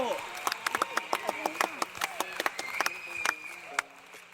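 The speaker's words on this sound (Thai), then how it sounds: "ปรบมือครับทุกคนบราโว" A small group claps in scattered, uneven bursts, a few sharp individual claps standing out over a low background of voice and tonal sound.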